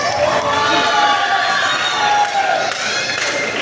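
A crowd at a fiesta show during a Miss Gay pageant event shouts and cheers loudly and continuously, with voices and some clapping mixed into the dense, nearby roar.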